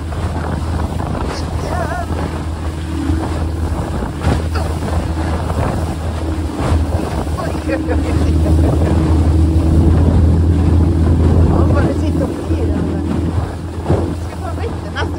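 A boat engine running out at sea during cod fishing in Nesseby, a steady low rumble under constant wind buffeting the microphone and the wash of waves, lasting throughout.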